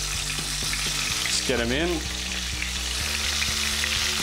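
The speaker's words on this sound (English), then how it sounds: "that's frying up absolutely beautifully" Salt and pepper calamari frying in hot oil, a loud, constant crackling sizzle with occasional stirring clinks, while a person speaks briefly over it.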